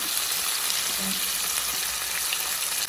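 Fish pieces fry in hot oil in a pan for a homestyle Kerala fish fry, a close, continuous crackling sizzle with no voices.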